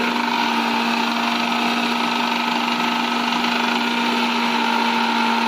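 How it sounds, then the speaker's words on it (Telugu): A mixer grinder runs steadily with a loud, even motor whine and hum that holds constant throughout, with no other sounds. "మిక్సీ సౌండ్ చూడండి ముందు."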